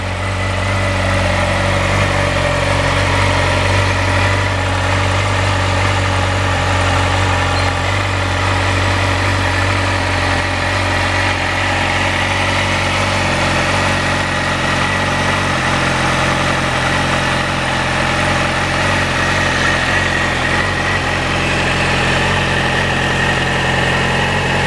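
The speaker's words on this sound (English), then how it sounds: "Give that exhaust just a throttle a quick blip." A motorcycle-type engine idles steadily and loudly up close, a deep continuous rumble with no clear throttle blips standing out.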